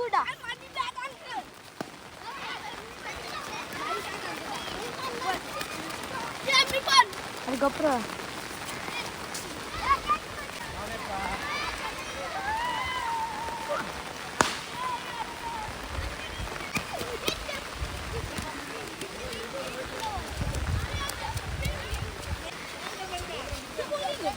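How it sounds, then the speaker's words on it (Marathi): Light rain falls on an outdoor cricket academy ground where young boys gather to practice, a faint, even patter with scattered drips and occasional knocks, under a voice talking. "थोडा पाऊस सुरू आहे"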